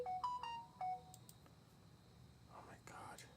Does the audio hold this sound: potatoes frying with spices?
no